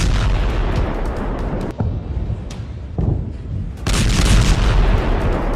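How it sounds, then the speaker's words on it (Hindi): Bomb explosions from Israeli F-15 air strikes, heavy rumbling booms that follow one another closely and stay loud throughout, with a sharper blast near the end. "इनको ऐसे ऐसे बमों से लैस किया गया है जिनसे ऐसे धमाके हो रहे हैं।"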